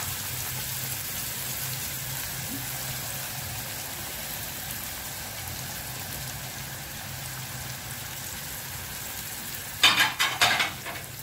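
Onions dropped into a hot frying pan for béchamel pasta give a steady, close sizzle that swells into a louder burst of crackling near the end as they hit the oil.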